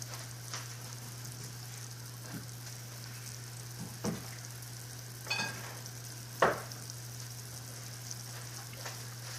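Something being stirred in a pan while cooking Lao chicken feet salad, with faint, soft scraping strokes at scattered intervals over a low steady hum and no talking.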